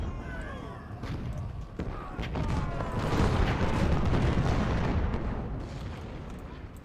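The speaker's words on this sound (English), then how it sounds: "Artillery fire." Artillery fire booms across a Civil War battlefield in Ultimate General: Civil War, a dense, rumbling barrage of overlapping cannon blasts that swells and holds loud, layered over crackling musketry.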